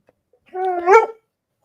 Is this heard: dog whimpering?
yes